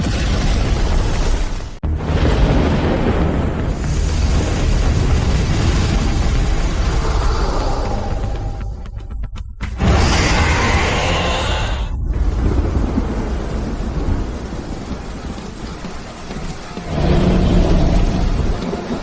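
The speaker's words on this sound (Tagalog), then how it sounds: "Kasanayan ng mecha pagbugso ng kidlat na dragon" Lightning dragon attack effect from a mecha animation: roaring, thunder-like rumbling crashes with booming bursts, loud and continuous, briefly cutting out and surging back.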